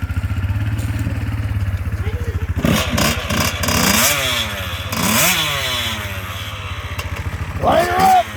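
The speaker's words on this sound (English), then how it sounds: "Two-stroke fun, everybody." A two-stroke dirt bike engine buzzes and idles loudly close by, then revs up hard several times with rising and falling whines. A voice is heard in the middle.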